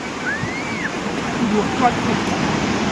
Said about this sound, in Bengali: দেখো ঢেউ, আর ঢেউটা এখন গর্জনটা বেড়েছে না বাবা